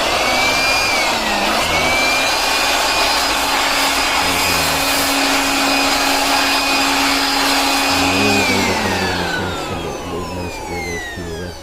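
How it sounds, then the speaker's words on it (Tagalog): An electric blower blasts air inside a computer case, a loud, steady, high whine close by. Its pitch dips briefly near the start and drops again toward the end as the airflow changes. "So ayan, i-plug in na natin yung blower at i-blower natin sa loob."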